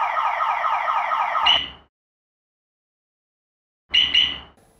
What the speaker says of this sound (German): die Alarmanlage löst auch jetzt sofort einen Alarm aus,